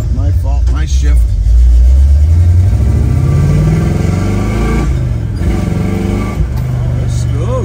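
A 1964 Pontiac GTO accelerates from close range, its engine note climbing loud and steady throughout, with a short burst of talk over it near the start.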